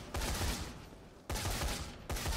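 Split shot weapon fire in the zombie game Dead Rising 3: two heavy sustained bursts of rapid, booming gunfire, each about a second long, loud and close, with a third starting at the end.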